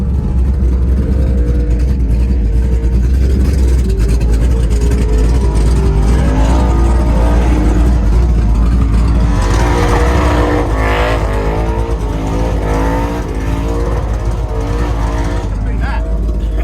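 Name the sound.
high-horsepower skid cars doing burnouts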